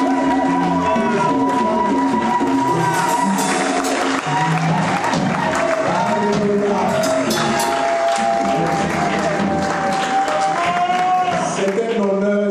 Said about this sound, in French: acclame Jésus pour toi